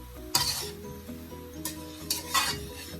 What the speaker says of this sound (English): you want to give that a good stir now